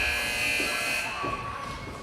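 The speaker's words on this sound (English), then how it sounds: "Random buzzers." A steady electronic buzzer drones at an indoor arena during a 12U youth hockey game between the Nepean Wildcats and Pittsburgh Penguins Elite, a loud continuous tone holding for the whole stretch over faint rink ambience.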